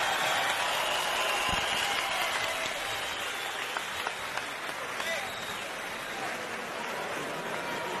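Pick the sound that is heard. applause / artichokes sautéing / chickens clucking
applause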